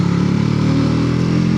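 A Triumph 400X motorcycle rides along a loose gravel road in fourth gear, its engine a steady, close, fairly loud drone with a constant low pulse and no voices.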